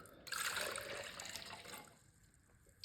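Water pours into a Keurig HyperChiller, a short close splashing trickle that swells quickly and then fades out within a few seconds, with no voices.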